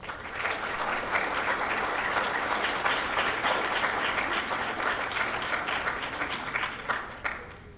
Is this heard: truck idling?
no